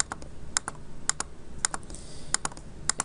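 Sharp, crisp clicks sound close up at an irregular pace, some in quick pairs, as vertices are added while tracing a polygon in mapping software, over a faint room hum.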